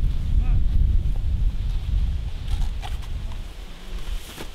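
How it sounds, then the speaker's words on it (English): Steady wind buffets the microphone with low rumbling gusts, loud at first and easing slightly, with faint voices in the background. "You see just how windy it is."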